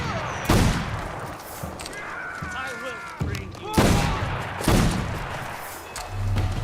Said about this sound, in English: I am just shooting this man to death